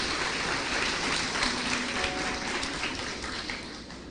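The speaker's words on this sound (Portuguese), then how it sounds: "Vamos dar uma salva de palmas a Jesus." A church congregation breaks into full, sustained applause, many hands clapping loudly together before tapering slightly at the end.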